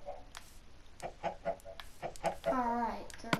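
Backyard chickens cluck in short, irregular bursts close by, with a louder squawking call near the end as a loose hen wanders out of its pen.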